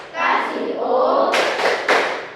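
In a classroom, kids chant a sustained call, then three quick, sharp rhythmic claps follow close together for the 'tepuk wow' routine, near and loud.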